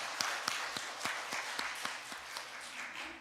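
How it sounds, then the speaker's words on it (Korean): A church congregation applauds during a Sunday worship service. The clapping is faint and rhythmic, with evenly spaced claps ringing through the room for a few seconds. "박수 한번 쳐주시기 바랍니다."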